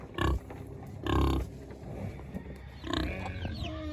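Several short, low pig grunts come in bursts with pauses between them, close by and moderately loud, on a small farm.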